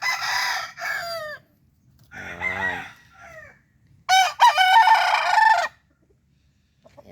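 A young gamecock stag, a reject with a faulty tail, clucks and calls in short bursts, then lets out one loud, drawn-out crow nearby, with quiet gaps between the sounds.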